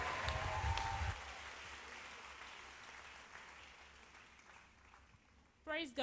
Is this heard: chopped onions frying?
no